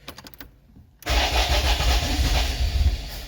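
Classic Renault R5 cold start at -9°C: a few faint cranking pulses, then the engine catches and roars into a loud, rough, steady run close by.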